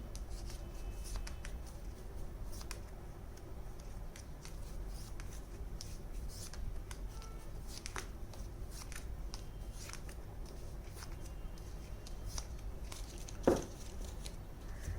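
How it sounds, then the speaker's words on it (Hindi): Tarot cards being drawn and shuffled, faint papery flicks and soft slides scattered across a quiet room, with one sharper snap near the end and no talking. "अब चलिए हम कुछ कार्ड्स भी निकाल लेते हैं यहाँ से"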